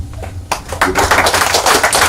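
Applause at a sod-turning ceremony marking the start of construction, loud close clapping that swells suddenly after a quieter opening and continues steadily.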